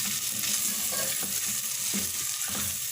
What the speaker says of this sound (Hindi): ये सारे मसाले इसमें डाल दिए हैं और इनको अच्छी तरह से मिक्स कर लेंगे